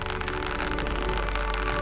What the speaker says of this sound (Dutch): het regent hier ook echt tyfus hard